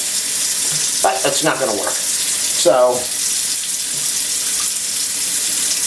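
Hot water running from a kitchen sink tap, a steady hiss of flow continuing throughout while a person talks briefly over it.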